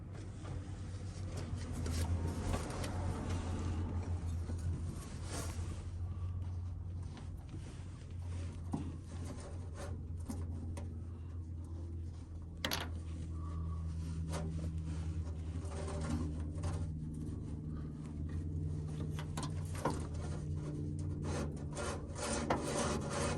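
A sticky car throttle cable being pushed back and forth, giving a quiet, close scraping and rubbing sound in uneven strokes with small clicks, with no talking.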